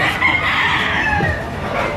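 A rooster at the Lipa, Batangas market crows once, loud and near, in a drawn-out, rising and falling call over a background of market noise.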